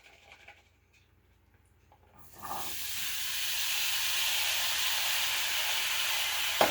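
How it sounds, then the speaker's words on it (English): Diced russet potatoes hit hot vegetable oil and butter in a pan, breaking into a loud, steady sizzle after a quiet start and holding it to the end. "I am going to fry us up some potatoes"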